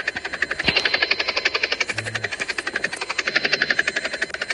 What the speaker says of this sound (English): Why is there a chopper or a helicopter in the sky?